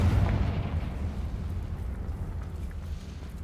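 A Confringo fire spell explodes in the Hogwarts Legacy video game, a deep booming blast that opens loudly and rumbles away over a few seconds, with no talk.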